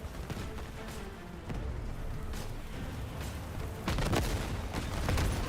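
Cannons fire in a naval combat video game, a series of dull booming shots spaced irregularly over rumbling background noise, with a heavier burst of fire toward the end.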